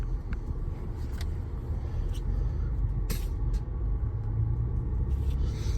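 A 2014 Ford Explorer driving on a road test after an intermediate steering shaft repair, a steady low engine and road rumble heard from inside the cabin with a few faint clicks.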